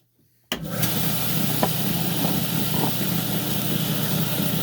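Saw trimming a piece of lapis lazuli for a cabochon, starting abruptly and running as a steady, loud, close whine and hiss throughout, with no talk.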